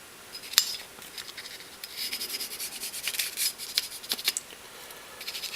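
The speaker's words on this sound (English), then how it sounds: "I also use this small portion of my brush to go through the railing system, make sure that the carbon buildup in there is all taken out." A small brush scrubs carbon buildup out of the rail system of a Glock pistol, making close, quick, irregular scratchy rubbing strokes with a few sharper ticks, and no voices.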